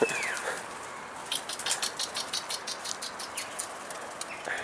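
Pigeons taking flight from a rooftop in Mardin, a rapid series of wing flaps clattering in a steady rhythm for several seconds after a quiet start, moderately close with faint chirps.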